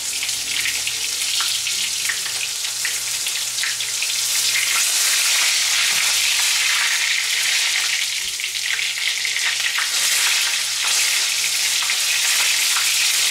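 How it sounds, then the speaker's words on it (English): Meat sizzles and fries loudly in a hot pan, a constant crackling hiss with occasional scraping from stirring. "it's going to sizzle a bit for a minute"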